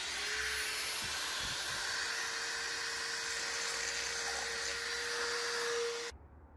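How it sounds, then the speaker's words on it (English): A small die grinder whines steadily as it grinds a cast turbo exhaust manifold for a Mazda Miata MX-5 NC turbo build, a constant high-pitched tone held close and loud for about six seconds before cutting off. "I got some tiny little die grinders which I'm hoping are going to work"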